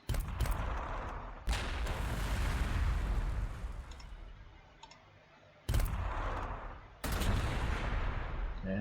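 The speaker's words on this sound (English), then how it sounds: "We'll just throw some crack missiles out there." Krak missiles fired in the strategy game Warhammer 40,000: Sanctus Reach, several loud booming launches and blasts with long rumbling tails, separated by brief drops to quiet, with no talking.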